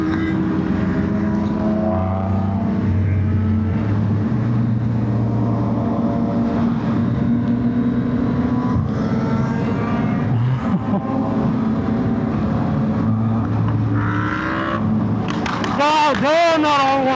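Large group of motorcycles riding together on a highway, engines droning loudly and continuously with several bikes sweeping past up close, with a sharp rev near the end.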